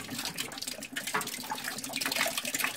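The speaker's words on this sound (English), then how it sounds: "I'm gonna stick this pipe on there for a second to get that water drained." Water drains from a screen sediment trapper filter through an attached plumbing pipe, a quiet, steady trickling and splashing flow with no talk over it.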